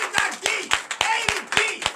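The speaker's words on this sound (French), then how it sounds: "Donnez l'acclamation au Seigneur Jésus!" A church congregation claps in a steady rhythm, about three claps a second, while voices shout and sing over the clapping during a Sunday worship service in Benin.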